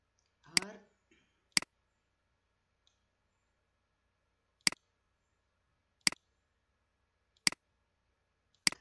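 Mouse clicks while working in PowerPoint, six sharp isolated clicks spaced a second or more apart, close and clear in a quiet room, with a short burst of speech near the start.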